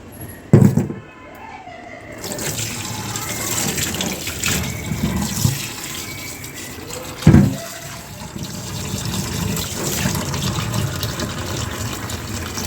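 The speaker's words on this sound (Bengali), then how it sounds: "এই মাছ আর এই মাংসটা আমি ধুয়ে নিই।" Raw fish and chicken are rinsed under a running tap, a steady close gush of water with a couple of sharp clunks from handling, no voices.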